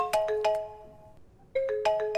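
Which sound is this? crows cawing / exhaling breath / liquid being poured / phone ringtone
phone ringtone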